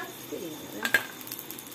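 Fried peanuts scooped out of a frying pan while making chowmein, a brief metal scrape and clatter of a spoon against the pan, with a soft sizzle in the background, fairly quiet and close.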